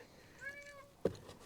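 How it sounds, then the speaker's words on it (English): Cat inside a cardboard box giving a faint, rising-and-falling meow, followed by a short sharp knock or bump nearby, in a quiet space without talking. "It's a cat in a box."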